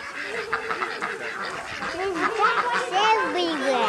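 A duck calls on a farm pond with a few close, nasal quacks over a couple of seconds, and a faint outdoor hush sits behind them.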